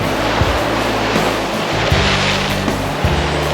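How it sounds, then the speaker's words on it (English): Big ocean waves off Sydney, Australia roar in a broad, continuous wash, with a low droning hum and wind buffeting underneath, loud and close, with no talk. "Big waves."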